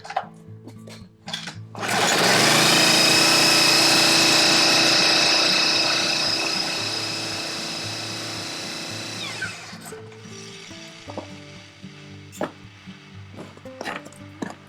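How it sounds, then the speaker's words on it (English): An engine spinning up to turn a conveyor motor gear, a loud steady high-pitched whine with a mechanical buzz that runs for about seven seconds, then winds down and fades, leaving faint clicks and clatter. "I'm going to go ahead and start up this engine"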